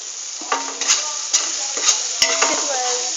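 Onions frying with coriander and jeera powder are stirred in a pan, a steady bright sizzle broken by several scraping strokes of a spoon at an uneven rhythm, close and alone.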